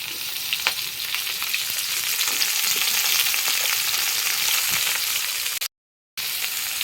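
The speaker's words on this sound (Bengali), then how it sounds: "চারি পাঁচ দিয়ে পেঁয়াজ দিয়ে দিয়েছি এবার আস্তে আস্তে নাড়িয়ে দেবো" Potatoes and onions fry in a pan of oil with whole cinnamon, cloves and nutmeg, giving a steady close sizzle broken by scraping stirs, then a brief dropout near the end.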